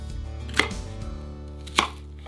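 A knife chopping onion on a board for a vegan pizza, two sharp separate chops with music playing underneath.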